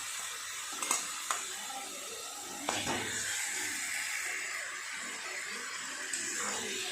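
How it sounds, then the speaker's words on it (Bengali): Fried chicken tipped into a well-cooked masala with separated oil, sizzling steadily in the pan while being stirred, with a few sharp spatula clinks against the metal. "এইবার এর মধ্যে দিয়ে দেবো ভাজা চিকেন।"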